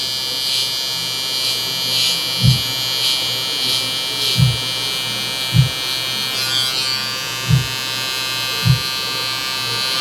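Electric hair clippers buzz steadily through a low taper haircut, a continuous close hum with a few brief low thumps spaced every second or so, no talking.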